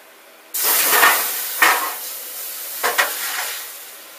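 A loud, steady hiss of steam and sizzling water, poured into a hot pan beneath a sourdough bread mold, starts suddenly and keeps going, swelling in a few brief surges before easing slightly.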